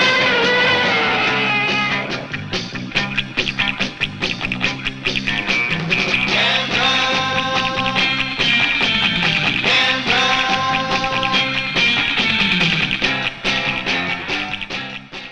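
Theme song from the Gamera monster film plays as continuous loud music with a steady beat and melodic lines, with no talk over it.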